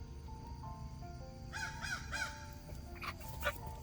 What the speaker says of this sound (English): Big old crow just flew over.